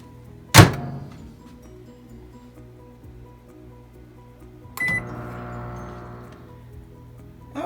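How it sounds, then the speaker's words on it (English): A microwave oven heating potatoes gives a steady low hum throughout, opening with a sharp thunk like a door shutting and later a brief clatter, with no talking. "I've got them in the microwave, and they're going to go for 2 minutes"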